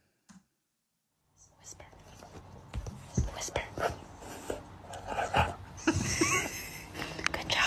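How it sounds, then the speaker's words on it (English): A dog gives soft, breathy whimpers and huffs in short bursts, close and fairly quiet, while people murmur nearby. "Let's go to the dog who knows how to whisper."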